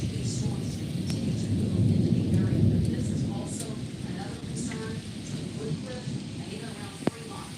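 Low, rolling thunder rumbles over steady rain during an extreme hail storm in Omaha, Nebraska, with a sharp crack near the end and voices talking faintly throughout.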